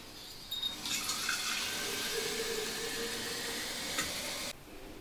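Steady rush of clean cold water pouring into a container for several seconds, a continuous hissing splash that stops abruptly near the end.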